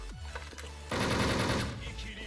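Gunfire in the online shooter Wolfteam: a short dull shot, then a loud burst of rapid automatic fire lasting under a second, fading into quieter game noise.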